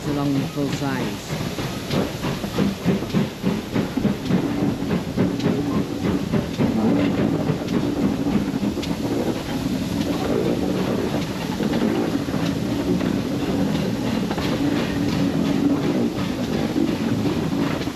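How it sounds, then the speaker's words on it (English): Steam locomotive working hard up a heritage railway line at a gala, its rapid exhaust beats running steadily throughout with rail clatter and wind buffeting, fairly loud and continuous. "Here you can see the locomotive working hard up the line."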